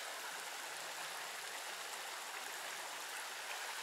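A shallow, low-running mountain creek in North Georgia hisses and burbles steadily at close range, a constant bright rush of water with no voices or other sounds.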